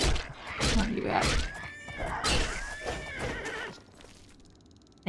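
Horse neighs and whinnies in the fantasy game Oblivion, with two or three rising-and-falling cries over hoof clops and combat noise, fairly close, with no talk.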